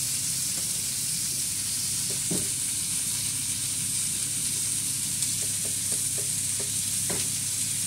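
Fish frying in a pan makes a steady close sizzle and hiss, with occasional light clicks from stirring, and no voices.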